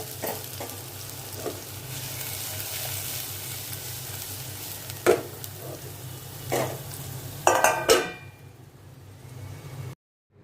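Bitter gourd pulp, tender and seedless, cooking in a pan for an ulli karam curry makes a steady sizzle with a few scraping stirs and clinks, then drops abruptly to silence.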